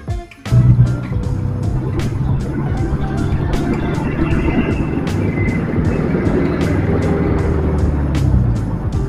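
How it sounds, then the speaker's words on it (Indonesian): Busy night road traffic heard from a motorcycle riding along Jalan Edy Sabara toward Jalan Malaka in Indonesia: a loud, steady engine and road rumble with wind noise, and nearby vehicles passing throughout. "kendaraan yang ada di sebelah kanan kita di jalur sebelah lumayan ramai"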